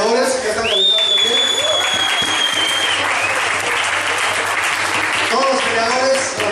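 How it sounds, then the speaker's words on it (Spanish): A crowd applauding capoeira fighters warming up at an exhibition in Cuautla, Morelos, giving loud, sustained clapping and cheering throughout, with a whistle-like tone and voices mixed into the clamor. "Un aplauso a los peleadores que están calentando aquí."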